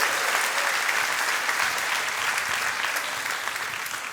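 Congregation at a church service applauding together, a dense, steady wash of many hands clapping that holds for about four seconds with no talk over it.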